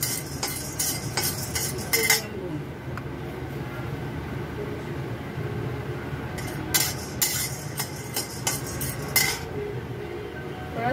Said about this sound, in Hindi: थोड़ा सा सुनहरा होने तक उसको भूनेंगे।